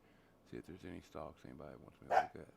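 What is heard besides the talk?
dog barking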